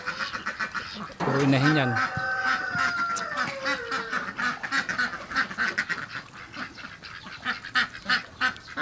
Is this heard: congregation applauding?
no